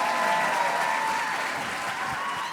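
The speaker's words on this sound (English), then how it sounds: "Big round of applause once again for our class speakers" Audience applause at a class of 2023 commencement ceremony, a dense sustained clapping from a large crowd, loud and even throughout the short stretch.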